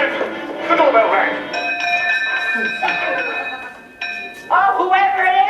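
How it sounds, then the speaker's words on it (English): A doorbell chime rings a few times over ongoing talking, bright and sustained against the voices. "And then the doorbell rang."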